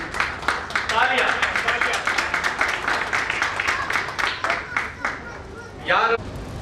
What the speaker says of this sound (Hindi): तालियां मारते रहिए जी